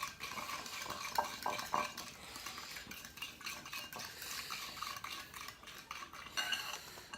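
Eggs are stirred into a coconut macaroon batter in a bowl, giving quiet, continuous scraping and soft wet clinks of a utensil against the container, with a few sharper taps, close and faint, with no talking.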